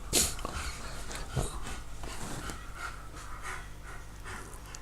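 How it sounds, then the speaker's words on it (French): A dog pants rapidly and steadily nearby, with a faint whimper near the start. "Si vous entendez du bruit derrière, c'est mon chien."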